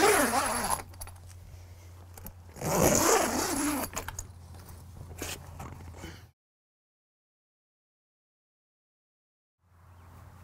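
A vertical zipper on a Club Car Precedent golf cart enclosure is zipped down in a few close, rasping pulls, followed by silence and a faint rustle at the end.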